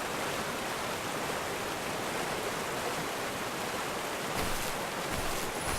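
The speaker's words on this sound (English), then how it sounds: "Right next to that dang waterfall." A waterfall and stream in the video game The First Tree give a steady, dense rush of falling water that stays loud and unbroken throughout, with no voices.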